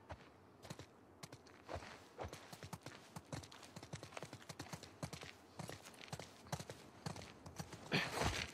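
Horse hooves clip-clop steadily on the ground in The Last of Us Part II, several overlapping footfalls in an uneven walking rhythm, fairly close and clear, growing louder toward the end.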